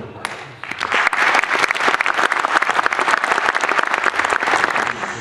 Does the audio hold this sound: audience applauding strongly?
yes